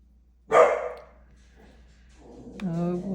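A beagle barks once, a loud, close burst of yelping, then settles into a quieter low whine or growl before a short second vocal rise near the end.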